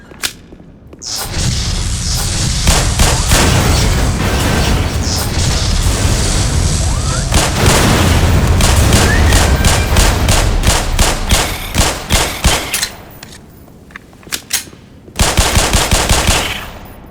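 Rapid automatic gunfire and booming explosions in the shooter game Half-Life Black Mesa, loud sustained bursts with a pause and then a few more sharp shots.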